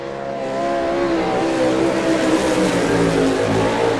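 A sprint race car with an Eagle chassis and Mopar engine roars through a qualifying lap at an Ohio dirt speedway, its engine loud and sustained, revving hard with a rising and falling pitch as it circles the track.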